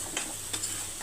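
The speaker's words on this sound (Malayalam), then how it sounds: "കുറച്ച് ടൊമാറ്റോ സോസ് ഒഴിച്ച് കൊടുക്കും." Tomato sauce hitting a hot frying pan of vegetable chickpea curry, a soft steady sizzle with a couple of brief scraping stir strokes, close and fairly quiet with no talking.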